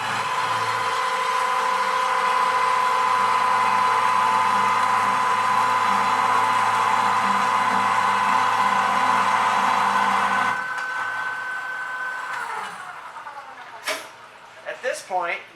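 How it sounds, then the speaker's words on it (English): Cold saw slicing through a metal extrusion clamped in a vise, coolant running, a steady loud motor whine with a sustained cutting tone for about ten seconds, then winding down to a quieter hum with a few sharp clanks and rattles at the end. "So simply pull the trigger on the handle and make sure the coolant is flowing and cut your workpiece."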